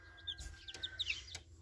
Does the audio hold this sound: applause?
no